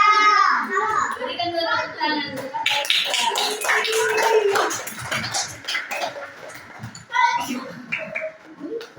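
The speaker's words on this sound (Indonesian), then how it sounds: "Berikan dulu tepuk tangan." Children in a classroom break into quick, crisp clapping midway through, a short loud burst of many small hands amid children's chatter and an adult's voice.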